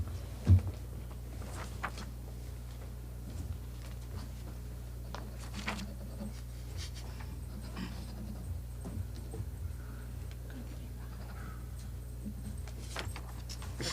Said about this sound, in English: Look at this little pup.